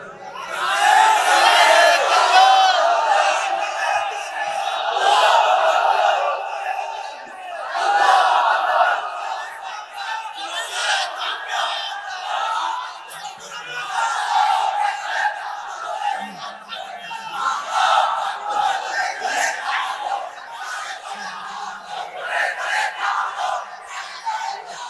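A crowd at an Islamic sermon chants slogans in unison, loud rhythmic massed voices rising and falling in waves, continuous throughout.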